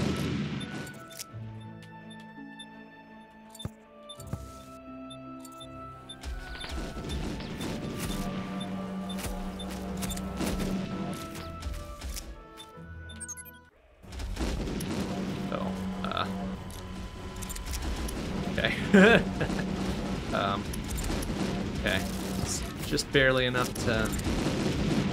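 Fire grenade launcher in the shooter video game WarSphere, with bursts of rapid explosive shots and booms, loud and dense in the latter half, mixed with game sounds and someone talking briefly.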